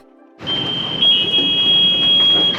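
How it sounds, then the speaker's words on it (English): A boat's bilge alarm, signalling the boat is taking on water at sea, sounds a shrill, continuous electronic tone steadily for a couple of seconds over low rumbling background noise. "That's the bilge alarm. Taking on water."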